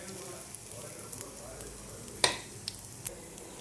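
Small rounds of beaten egg batter, poured in threes like mini omelettes, fry in a wide pan for egg ada curry, giving a soft steady sizzle with a few faint clicks and one sharper crackle.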